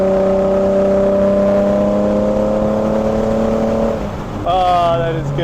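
A 1999 Plymouth Prowler hot rod cruises with a steady engine drone, then the throttle lifts and the exhaust burbles and crackles briefly before the engine note picks up again.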